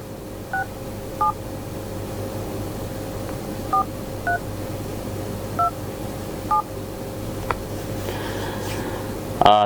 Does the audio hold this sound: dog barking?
no